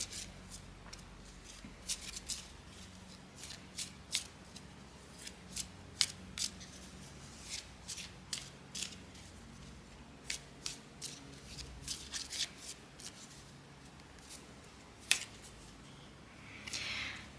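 Lenormand fortune-telling cards being shuffled by hand during a tarot-style reading, a run of crisp riffling snaps and flicks at irregular intervals, close and quiet, with a short rustle at the end.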